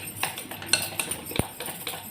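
A utensil whisks egg pakora batter in a bowl with quick, irregular clinks and taps against the sides. One sharper knock stands out midway, and the sound is close and fairly soft.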